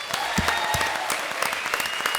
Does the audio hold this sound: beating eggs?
no